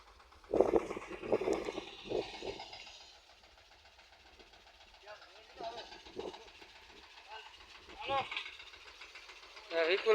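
A tractor engine runs in a farm field, a low rumble that swells and fades in the background while people talk over it.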